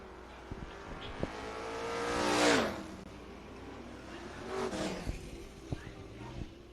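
El Camino and a 1995 Mustang drag racing down the strip, engines revving and rising in pitch as they pass at a distance, one clear surge peaking then a second fainter pass, with crowd noise and knocks underneath.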